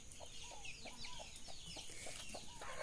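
Hens clucking in a Brazilian backyard flock, one bird pestering another, with repeated short clucks and calls in a steady irregular rhythm, close by over a constant background hiss.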